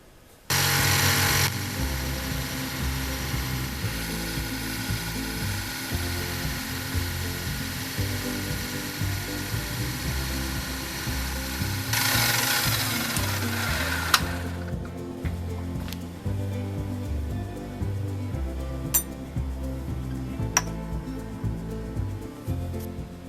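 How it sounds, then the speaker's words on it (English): A milling machine cuts a pair of vise jaws down to matching height with a loud, continuous grinding whine and a steady motor drone, shifting in tone midway and carrying faint clicks near the end. "we'll put them both in the vise and mill them a few more thousandths down to get them perfectly the same height"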